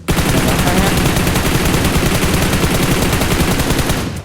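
Sustained, loud automatic gunfire from PUBG Mobile, a dense rapid stream of shots rattling on without pause for about four seconds, with no speech over it.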